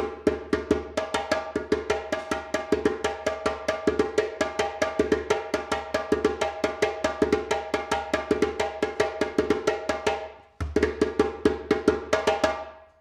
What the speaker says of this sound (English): But since I'm on the djembe, I'll play some parts for djembe, right?